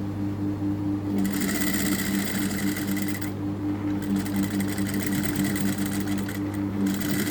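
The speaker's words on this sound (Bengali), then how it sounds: "এখানে ব্যাক স্টিচ দিয়ে আমি চেন লাগানো শেষ করব।" Sewing machine back-stitching to finish attaching a zipper to fabric, a steady close mechanical whirr with brief pauses in the stitching, heard alone without talk.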